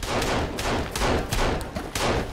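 Rapid gunfire from a gun in Sons of the Forest, a string of loud, close shots in quick succession across a couple of seconds, with no talk over them.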